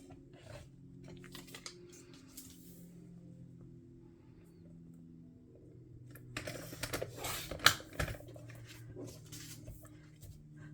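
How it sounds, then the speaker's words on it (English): Paper trimmed on a scrapbooking cutter, two 4 by 6 inch pieces cut down to 5 inches wide: soft sliding and rasping strokes at close range, building to a louder burst of cutting and rustling near the end, no voices. "So I'll cut both of these to 5 inches wide."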